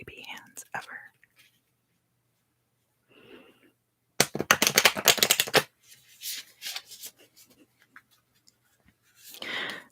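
A deck of cards shuffled in small batches for an ASMR session: a few soft riffles, then one loud, close crackling shuffle burst and more scattered card handling, with quiet whispering between.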